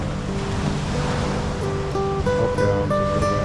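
Ocean surf off Lombok, Indonesia, washing in as a steady broad rush that stays loud and continuous throughout, with a few faint tonal hums layered over the water noise.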